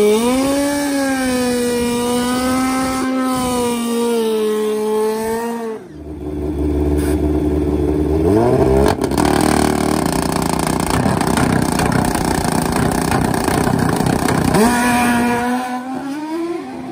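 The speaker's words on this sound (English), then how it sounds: "This team has worked incredibly hard to get this motorcycle to go 640s at over 220 miles an hour." Suzuki GS nitrous drag motorcycle of about 575 horsepower, a 220 mph machine, revving hard at full power: a loud, close, sustained engine howl that rises and falls in pitch, dips briefly, then climbs again with no talk over it.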